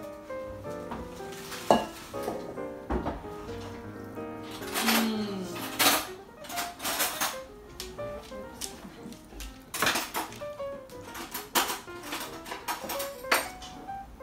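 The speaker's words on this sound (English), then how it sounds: "now we're going to scoop it onto these pans that have been lined with parchment paper" Metal pans and utensils clatter and scrape in a busy kitchen, with repeated clinks and thumps of gluten-free chocolate chip cookie dough being scooped and dropped onto parchment-lined baking pans.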